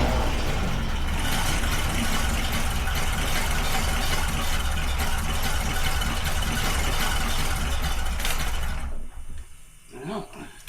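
A car engine labours at idle, failing to rev up, with a loud steady mechanical rattle and hum close by for most of the clip before it drops away abruptly near the end, leaving quieter knocks and faint noise.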